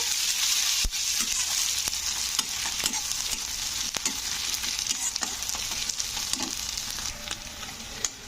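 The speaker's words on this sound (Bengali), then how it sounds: "আমি দিয়ে দেবো সামান্য একটু আদা রসুনের পেস্ট তো আদা রসুনের দিয়ে একটু এর সঙ্গে নাড়াচাড়া করে দেবো" Ginger garlic paste with curry leaves frying in a pan for a bottle gourd dish, a steady close sizzle with repeated scraping clicks of a spoon stirring throughout, no voices.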